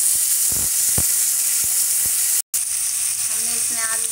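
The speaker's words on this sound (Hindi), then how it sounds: "हमने इसमें आलू डाल दिए, अब इसको हम मिक्स कर लेंगे और अच्छे से भूनने देंगे सुनहरा होने तक" Potatoes sizzling in hot oil with green chillies for sabudana khichdi, a steady loud frying hiss with a few stirring clinks and a brief break, no talking.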